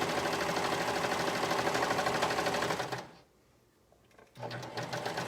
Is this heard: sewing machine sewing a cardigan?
yes